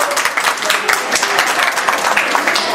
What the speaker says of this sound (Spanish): esto obviamente se amerita un aplauso